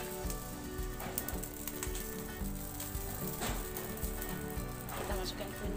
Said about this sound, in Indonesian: Udah mendidih ya, teman-teman, udah mendidih, baru kita masukin kunyit.